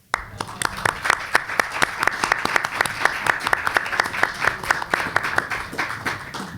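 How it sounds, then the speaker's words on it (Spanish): A room full of people clapping, steady and sustained applause lasting several seconds at moderate volume. "lo invito a dar un aplauso."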